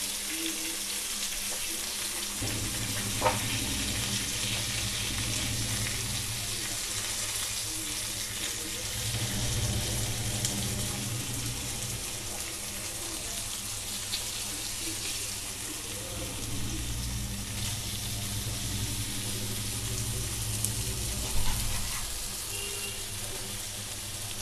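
Fish pieces fry in a pan with a steady broadband sizzle that holds throughout, spiked by a few faint clatters as the pieces are flipped.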